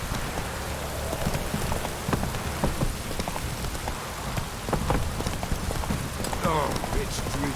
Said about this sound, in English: Oh, it's drizzling.